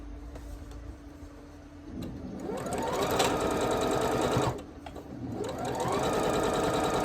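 A sewing machine stitches quilt pieces in two runs, each ramping up from a slow start into a fast steady whirring clatter with an odd rattling noise, separated by a brief slowdown, alone without talk.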